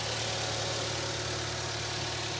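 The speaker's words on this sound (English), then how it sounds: "Engine sounds good." A pickup truck engine idles evenly with a steady low hum and faint rhythmic pulsing, close and continuous, with no voices.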